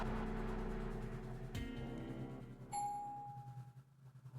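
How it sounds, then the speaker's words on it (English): A soft electronic elevator chime in a visual novel game rings out once at mid-clip, a clear bright ding that sustains and fades over a low background music bed. "The gentle chime of the elevator shatters the silence"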